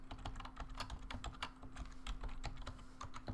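A MetaMask wallet password typed on a computer keyboard, a dense steady stream of quiet, close key clicks over a faint constant hum, with no voices.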